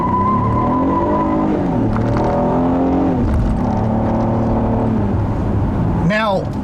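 A 2015 Acura TLX with its 290-horsepower direct-injection V6 pulls hard, harmonic engine tones climbing through gear changes with brief dips between shifts. The sound is loud and close, with steady road and wind noise underneath.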